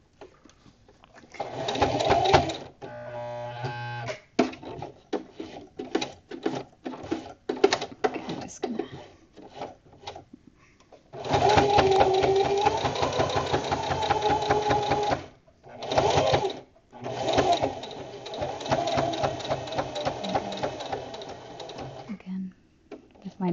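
A sewing machine stitches fabric coasters in loud, rapid mechanical bursts that start and stop repeatedly, with longer runs in the second half and short pauses between them as the work is turned.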